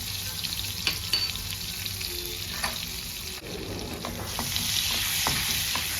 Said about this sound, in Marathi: आता त्याच्यात जिरं टाकते मी